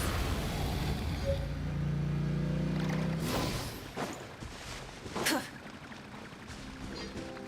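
A boat engine revs in the Genshin Impact video game, a loud droning motor hum that swells for a few seconds and then fades under whooshing water and splashes.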